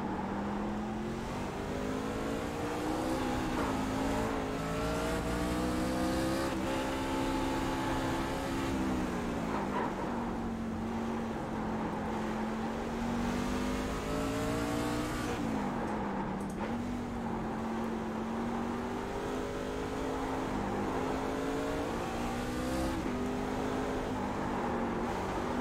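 A racing pickup truck from a truck series circles Virginia International Raceway, its engine loud and close as it revs high, drops pitch at each upshift and climbs again, sustained throughout with no talk.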